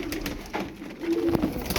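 A black-and-white pigeon coos in soft, low throaty bursts, close by at an evening bird market, with faint background noise.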